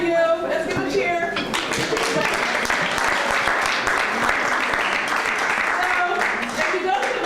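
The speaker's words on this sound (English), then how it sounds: "Let's give a cheer." Crowd at a casual humanities talk event claps and cheers for a raffle prize winner, dense applause building quickly after a voice and holding loud and steady, with a few whoops mixed in.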